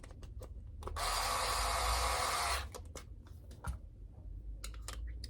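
A power drill drives a screw into the threads on a Traxxas Maxx V2 RC car, one sustained whirring burst of about a second and a half between faint clicks and handling noises.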